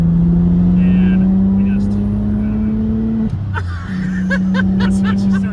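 A tuned Audi B5 S4 engine hums steadily from inside the cabin during a ride, its pitch holding, dropping briefly after a shift and then climbing again, while people talk and laugh over it.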